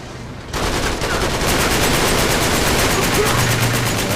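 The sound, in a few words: gunfire spraying in video game Uncharted 3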